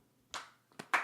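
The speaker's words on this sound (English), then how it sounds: "Gotta clap it up" A small studio audience claps hands on a music talk show in a few brief, loose bursts, close and fairly quiet, with short gaps between them.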